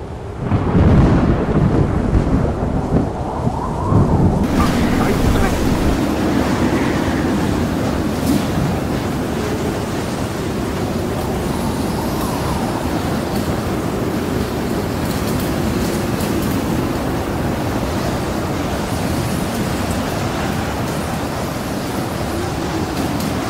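Bitter mountain storm near a summit, with heavy rumbling gusts and thunder-like booms loud at the start, then a sustained roaring wind that continues unbroken.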